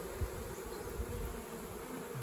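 Honeybees fan at a swarm trap entrance, a steady dense buzzing hum that continues without a break, close and even in level, with no talking.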